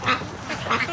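Free-range ducks quack close by in the morning, two or three loud rasping calls in quick succession in a single short burst.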